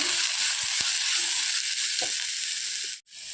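Spiced bread upma mixture being stirred in a hot pan, a dense continuous sizzle with a few soft scraping knocks from the spoon before the sound briefly cuts out.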